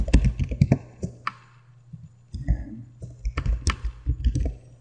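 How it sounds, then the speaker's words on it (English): Keys clatter on a computer keyboard while text is typed and the Tab key pressed in OpenOffice Writer, a close sequence of crisp clicks in irregular bursts with short pauses and no talk. "putting in the tab key and typing tab"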